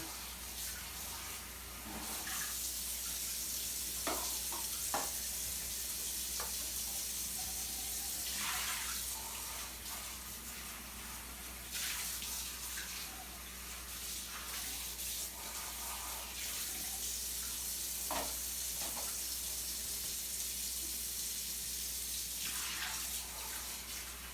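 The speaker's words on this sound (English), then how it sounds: "Rinse them out real good with just some tap water here." Tap water runs steadily into plastic containers from a coral shipment as they are rinsed in a sink, a continuous hiss and splash that shifts with occasional sharper knocks as the containers are handled.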